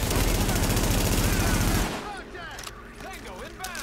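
Rapid automatic gunfire in Tom Clancy's The Division rattles loudly for about two seconds, then gives way to quieter scattered shots and game effects.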